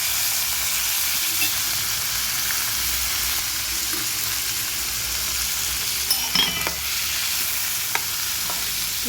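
Urad dal and small pieces of fresh coconut fry in a pan with a steady, dense sizzle and crackle that runs through the whole stretch, plus a few brief stirring scrapes near the end.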